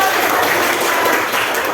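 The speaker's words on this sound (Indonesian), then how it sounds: "kita tepuk tangan dong" A classroom of young students applauding during a geography lesson, a brief, steady wash of many hands clapping together at moderate loudness.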